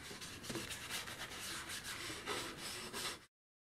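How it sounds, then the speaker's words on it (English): Sanding sealer is rubbed onto a turned wooden vase, giving close, continuous scrubbing strokes in a loose rhythm that stop abruptly at the end. "it's now that I've got to put some sand and sealer on"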